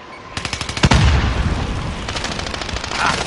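Automatic gunfire in Call of Duty Warzone: a quick string of close, sharp shots and then one heavy blast, followed by a sustained roar of continuing fire and echoing rounds.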